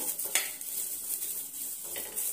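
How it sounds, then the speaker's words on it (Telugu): Red chilies stirred in a hot pan for a radish chutney, light sizzling under a few soft clinks and scrapes of a spoon against the metal, close and moderately quiet. "ఇప్పుడు ఈ వేడెక్కిన గిన్నెలో వేసేసాలి. ఒకసారి ఇట్లా కలుపుదాము."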